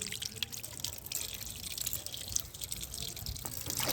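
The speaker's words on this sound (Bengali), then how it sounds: "কলে জল চলে এসছে, মাংসটা ধুয়ে নেব।" Tap water runs and splashes in a home kitchen as raw meat is washed, an uneven close patter of drips and trickles continuing throughout with no talk.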